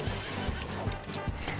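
A horse in the video game Battlefield 1 neighs loudly over dense battle noise, with rhythmic hoofbeats thudding underneath throughout the short burst.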